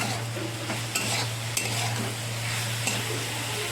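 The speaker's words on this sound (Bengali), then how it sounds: "দেখুন মশলাটা আমার কষা হয়ে এসছে।" Spice paste (masala) being stir-fried in a pan for a fish curry: steady low sizzle under a constant hum, with a few sharp scrapes and taps of the spatula, close up and no voices.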